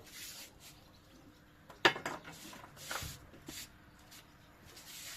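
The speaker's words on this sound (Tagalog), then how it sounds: "Ito, kawali natin. Lalagyan natin ng mantika to." A frying pan is handled in a kitchen before cooking oil goes in. There is one clear metallic clank, then softer scrapes and knocks, fairly close and with no speech over them.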